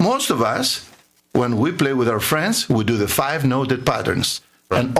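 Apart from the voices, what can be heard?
No everyday noises stand out.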